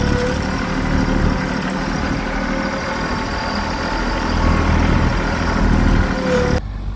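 A mini excavator engine runs steadily while it digs and moves dirt. A continuous mid-low mechanical drone holds throughout, with a slight swell near the end, then cuts off abruptly.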